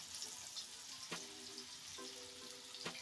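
Banana slices for banana wafers fry in hot oil with a soft, steady sizzle, faint and close, broken by a few brief stirring clinks.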